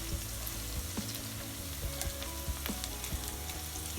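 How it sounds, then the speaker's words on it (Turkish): Sautéed onions sizzle steadily in a pan as pepper paste is added and mashed in, with a constant fry hiss broken by small spoon taps and scrapes. "Şimdi içerisine bir yemek kaşığı kadar biber salçamızı ekliyoruz. iyice eziyoruz onu."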